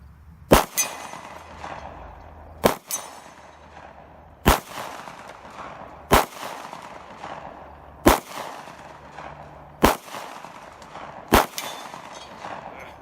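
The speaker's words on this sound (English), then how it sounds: "So 75 yards is a pretty good shot with this ammo for sure." CZ P10C pistol firing at a 75-yard outdoor range, seven sharp loud shots spaced about two seconds apart, each with a ringing tail and faint metallic clang from a distant steel target, no talk.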